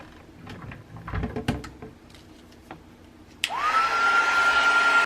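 A hair dryer switches on and blows steadily and loudly to dry paint swatches on a colour mixing chart, after a few quiet handling clicks and knocks; no talking.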